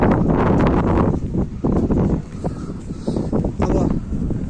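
Wind blowing hard at a sunny beach, a steady loud rushing and buffeting across the microphone that rises and falls in gusts, with voices talking over it.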